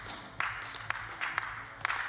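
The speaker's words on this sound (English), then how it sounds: "Mr. Rossi clapping along." Scattered applause at a European shooting championship in Estonia, with a spectator clapping along; a few sharp claps stand out over a soft, steady patter of hands in a moderately quiet hall.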